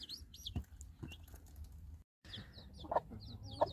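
A mother hen clucks softly in a pen with her five chicks, whose high peeping chirps repeat throughout. A brief wing flutter and small scratching sounds come close by and quiet.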